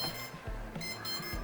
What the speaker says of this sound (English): The motors are beeping.